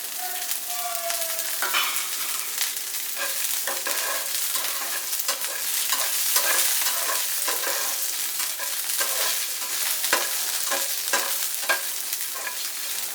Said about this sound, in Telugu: మిరపకాయలు కొంచెం వేగనిచ్చి అప్పుడు కరివేపాకు, ఎండుమిరపకాయలు వేసుకోవాలి.